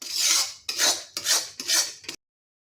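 Four rhythmic scraping strokes of a utensil stirring spices in a pan, close and fairly loud, then silence.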